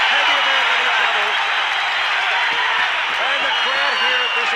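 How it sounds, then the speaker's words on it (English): A crowd at a kickboxing event in an entertainment centre roars and applauds wildly in a dense, continuous wall of noise, with a commentator talking over it throughout. "And the crowd here at this entertainment centre are going berserk."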